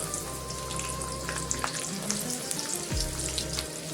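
Onions frying in ghee in a kadai, with a steady close sizzle and crackle that runs throughout and a few soft pops on top.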